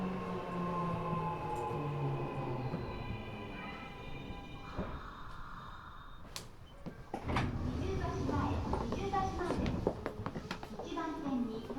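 An Eidan 6000 series subway train, a car with a 7000-series VVVF unit giving an unusual motor sound, hums and rumbles steadily as it runs, with shifting whine tones and a loud clunk partway through, while a voice speaks over it.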